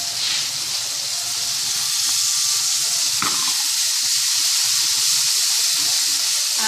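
Vegetables sizzle in hot oil while being mixed, a loud, steady frying hiss throughout with faint scraping and stirring underneath.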